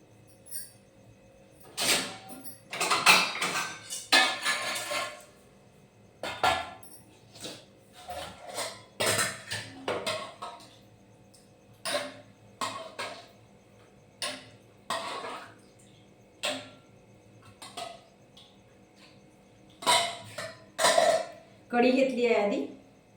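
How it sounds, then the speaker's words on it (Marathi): Dishes and steel utensils clink repeatedly at close range while a plate is filled with masale bhaat, kadhi and bhajji in a home kitchen, in irregular bursts of short taps and scrapes with brief pauses between them. "आता आपण ताट घेऊया आणि ताटामध्ये सगळं ठेवूया"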